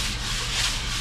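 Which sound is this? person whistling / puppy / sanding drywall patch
sanding drywall patch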